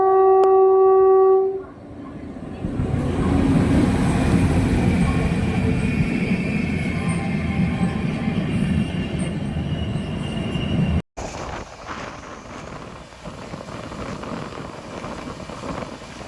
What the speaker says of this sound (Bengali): এখানে কিন্তু আসবে বন্দে ভারত স্লিপার ট্রেন